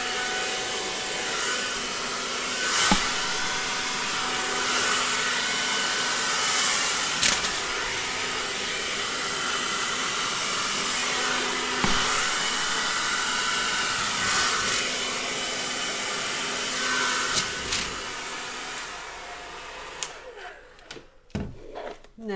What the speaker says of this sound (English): And now I'm going to blow it with the hair dryer.